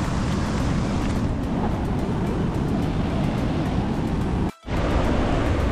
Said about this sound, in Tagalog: Sobrang lakas ng current ng tubig niya.